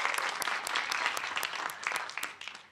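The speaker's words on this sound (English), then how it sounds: "I think we can give another round of applause." Audience applause after a keynote talk at the MIT Water Summit, a brief burst of many hands clapping at moderate volume, gradually thinning out.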